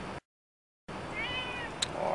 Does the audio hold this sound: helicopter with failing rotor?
no